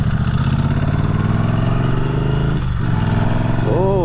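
Norton Commando 961 motorcycle engine running steadily while riding, a close, continuous mid-pitched drone that dips briefly as the revs change.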